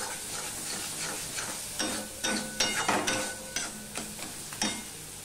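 Spice paste for a Bengali vola fish curry sizzles in oil as it is stirred and sautéed, a steady close crackle broken by several louder bursts of frying as the spoon turns the masala.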